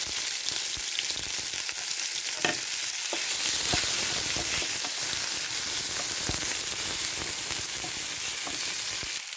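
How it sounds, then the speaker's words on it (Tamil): Onion, green chilli and curry leaves fry in a pan with a dense, continuous hiss and crackle, plus a few sharp stirring clicks, close and fairly quiet, without talking. "இப்போ எல்லாத்தையும் போடுறேன். வெங்காயம், பச்சை மிளகாய் எல்லாம்."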